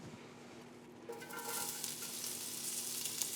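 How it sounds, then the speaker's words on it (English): Thick-sliced onions drop into a little oil in a hot pan and burst into a bright, steady sizzle that stays loud and hissing once they land, with a quiet lead-in before. "I'm gonna add in just a little tiny bit of oil, and I'm gonna get my onions."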